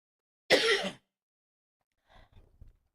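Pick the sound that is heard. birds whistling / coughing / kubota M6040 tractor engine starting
coughing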